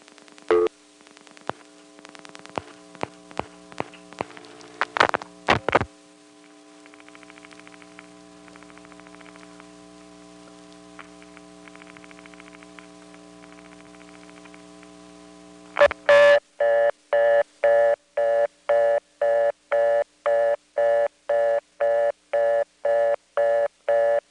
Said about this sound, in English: You'll hear the trunk flash.